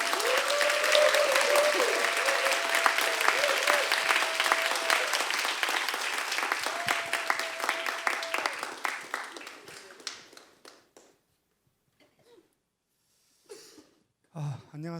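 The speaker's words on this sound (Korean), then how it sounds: "우리 박수로 맞이하겠습니다." Church congregation applauding to welcome a speaker at a Wednesday worship service, a loud sustained burst of clapping with a tonal hum under it, fading out after about ten seconds into near silence with a few soft noises.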